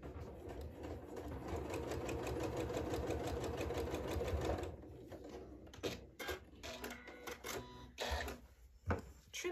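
A sewing machine stitches a quilt square along a marked diagonal line, its needle chattering in a fast, steady rhythm up close, then slowing into short uneven bursts and pauses.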